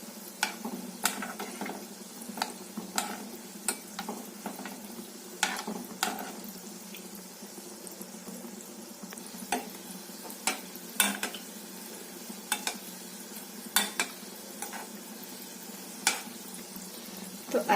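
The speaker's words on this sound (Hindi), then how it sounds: "तो इसे हम बिल्कुल लो फ्लेम पे फ्राई करेंगे। अब हम इसे ऐसे ही चलाते रहेंगे।" Kala jamun fry on low flame in a pan, a soft steady sizzle under repeated scraping and clinking strokes of a spoon stirring them, close and fairly quiet.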